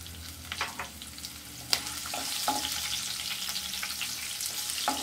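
Curry leaves and green chillies frying in oil on a low flame for semolina upma, a steady close sizzle with scattered sharp crackles and pops and occasional stirring scrapes, no voices.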